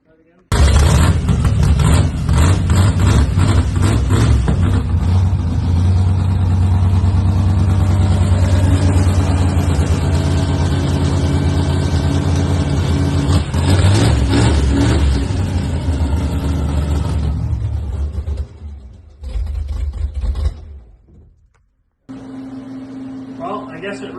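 A freshly assembled car engine runs loud and close, roaring and revving hard for long stretches before dropping back toward a rough idle and briefly cutting out.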